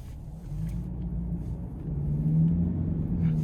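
A 2026 Lincoln Corsair Reserve II with a 2.0-litre turbo engine and all-wheel drive cruises in normal mode, giving a steady low engine and road rumble that grows slightly louder partway through.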